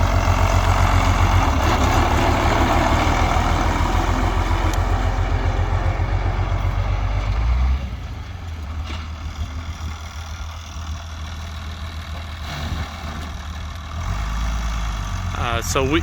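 A tractor pulling a bale wrapper idles loudly with a steady low engine rumble, then drops in level as it pulls away, the engine note continuing further off with a slight rise near the end.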